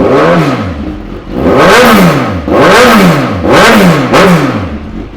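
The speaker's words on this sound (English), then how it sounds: "I'll give it a quick start up so you can have a listen." A 2018 Suzuki GSX-S1000 ABS sport motorcycle engine is revved hard several times in a row at close range, each blip rising and falling in a sharp, rhythmic sweep.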